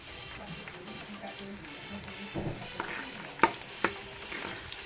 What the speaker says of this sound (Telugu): ఫ్రై చేసుకోవాలి ఆనియన్స్ కలర్ వచ్చేంత వరకు. ఇలా ఫ్రై చేసుకోవాలి.